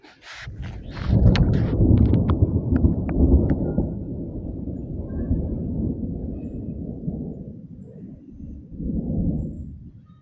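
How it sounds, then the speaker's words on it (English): Thunder during a storm, a deep rumbling roll that swells early, stays heavy, fades slowly, then surges briefly again near the end, with faint rain beneath. "Well, it's storming."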